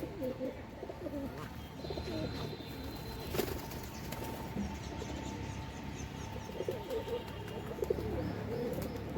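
Domestic native pigeons in a coop give repeated soft, low cooing calls with occasional chirps and a brief flutter of wings, fairly close, over a quiet room background.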